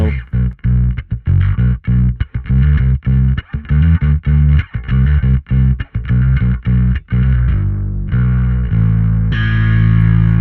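A bass guitar heavily distorted through a Darkglass Aggressively Distorting Advanced Machine pedal with adjustable drive and an impulse response plays a chugging riff of short, punchy notes, loud and close, then lets longer notes ring out near the end.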